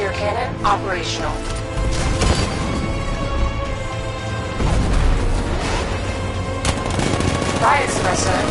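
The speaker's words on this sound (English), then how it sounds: "60mm cannon operational" Rapid bursts of heavy 60mm tank cannon fire boom and crack repeatedly over a loud, dense mix, with a voice talking underneath, in a Batman video game.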